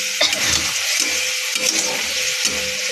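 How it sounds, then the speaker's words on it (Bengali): Crab curry sizzles and fries in a pan after ground cumin is added, with a steady close hiss broken by rhythmic stirring scrapes roughly every half second. "একটু কষাবো"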